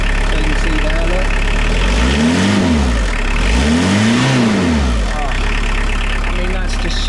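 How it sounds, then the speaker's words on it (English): A VW T25 van with a swapped-in 1900 engine idles loudly nearby, then is revved twice, each rev climbing and falling smoothly before settling back to a steady idle. "I'll give her a little rev up and see what she sounds like."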